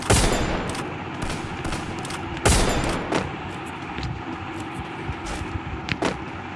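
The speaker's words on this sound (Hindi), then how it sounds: "ये गन गाइस बहुत ख़राब है मेरे लिए गाइस ये बहुत ख़राब है सिंगल शॉट गन" SKS rifle shots fire one at a time in Free Fire, standing out as sharp, spaced cracks, one especially loud, over a steady bed of background game noise and scattered distant gunfire.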